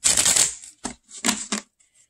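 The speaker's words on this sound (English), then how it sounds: "I want to get a good shuffle." Tarot cards being shuffled by hand in a few quick bursts, a dense papery riffle followed by two shorter separate flutters close up, with no talking.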